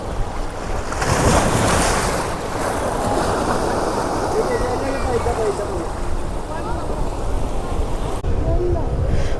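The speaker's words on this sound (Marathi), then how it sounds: "खूप छान हवा सुटली इथे." Wind gusting along the rocky Malvan coast in Konkan, a loud continuous roar with buffeting on the microphone over surf washing below, and a voice talking in the background.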